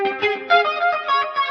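Nu metal-style electric guitar run through vibrato, delay and chorus effects, playing a short wobbling, shimmering phrase with a warbling pitch, loud and upfront.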